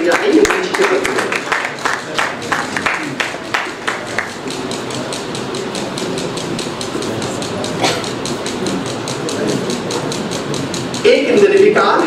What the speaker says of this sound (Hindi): तालियों के साथ हम अभिनंदन और अभिवादन करेंगे।